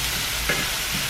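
Shrimp and mushrooms frying in a pan, a close steady sizzle with a brief scrape and clatter as they are stirred around, no voices.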